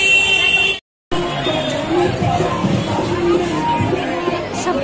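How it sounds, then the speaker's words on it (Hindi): Dense crowd near the Rajhans hotel among festive decorations, a continuous babble of many voices with occasional shouts and traffic, a brief dropout near the start, someone talking close by. "बहुत भीड़ है।"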